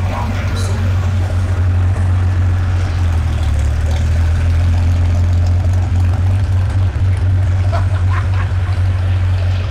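Tractor engine in a tractor pulling contest, a loud steady low drone that runs continuously, heard with crowd noise and voices over it.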